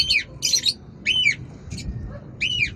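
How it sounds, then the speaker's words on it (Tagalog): Several birds sing and chirp in short bursts of bright, high calls, about five phrases with brief gaps, moderately near over a low outdoor rumble and no talking. "kumakanta na to mga ibo natin"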